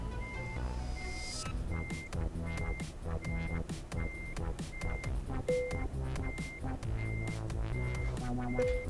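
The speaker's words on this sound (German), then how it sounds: "ich habe es mittlerweile ganz gut raus, das Rückwärtsfahren im LKW" A truck reverses in Euro Truck Simulator 2, its backup alarm beeping in a steady even rhythm over the low hum of the engine and passing road noise.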